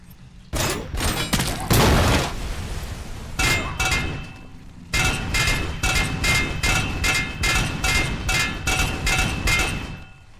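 Rapid bursts of gunfire in RoboCop: Rogue City, with a stationary OCP turret laying down heavy fire and bullets ricocheting. Loud, sharp volleys repeat in quick rhythmic clusters, with a short pause between them.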